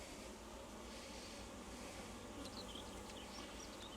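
Honeybees hum steadily around a queen cage inside a hive, a dense continuous buzz close by with no voices.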